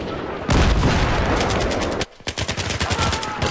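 Rapid gunfire from the Battlefield 3 video game, a sustained burst of loud automatic fire followed by a sharp break and then a string of separate, evenly spaced shots.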